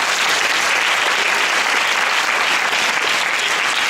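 Audience applause at a girls' final awards ceremony as judges are introduced, a steady dense clapping from a large crowd, loud and continuous throughout with no talking over it.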